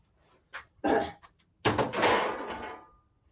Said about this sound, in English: That dog's in the ruckus.